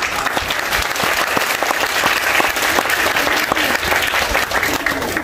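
Audience at a school annual function claps steadily and loudly throughout, dense sustained applause from a large crowd with a voice faintly audible beneath it.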